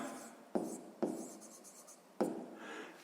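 Pen strokes on paper in a sixth-grade maths exercise notebook, three distinct scratchy bursts of writing in a quiet room, close and soft, with no voices.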